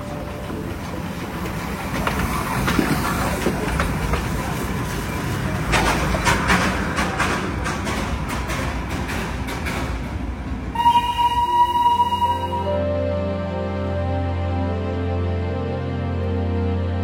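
The Darjeeling toy train passing beside a mountain road near a temple, a moderate rolling rumble with clacking and bursts of noise. The rumble gives way to a steady tonal hum near the end.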